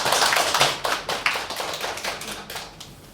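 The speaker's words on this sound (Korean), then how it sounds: "기쁨을 부어주실 하나님께 영광의 박수 올려드리겠습니다" A small church congregation claps during a Korean Christmas-season worship service, a brief quiet burst of uneven hand claps fading over a few seconds.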